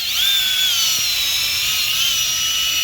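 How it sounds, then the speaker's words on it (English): Cordless power drill fitted with an auger bores a planting hole in garden soil, giving a steady, loud, close high whine that holds throughout without pause. "Make sure your drill's on low and go slow with it."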